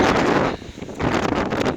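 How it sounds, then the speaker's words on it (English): Strong gusts of wind roar across the microphone in loud buffeting bursts on a hilltop, briefly easing mid-way before blowing hard again. "the wind's picking up a fair bit"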